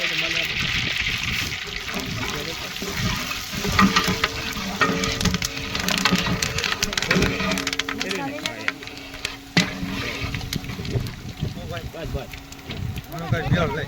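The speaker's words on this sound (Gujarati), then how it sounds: "દાળનો વઘાર." Dal tempering crackling and sizzling in hot oil on a gas stove, a busy continuous fry with stirring clatter and shifting spatter, with voices talking over it.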